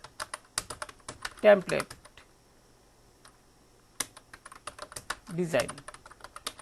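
Typing on a computer keyboard, with quick bursts of sharp key clicks that pause for a stretch and then resume. Someone talks briefly over the keystrokes.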